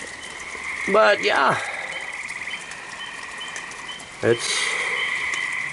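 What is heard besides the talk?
tree frogs croaking, with spring peepers in the background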